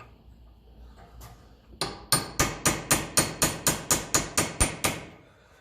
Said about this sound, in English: he grabs a cold chisel